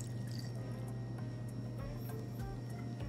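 Milk and water pour into brioche dough in a mixing bowl, a soft continuous liquid pour heard under a steady low machine hum for about three seconds.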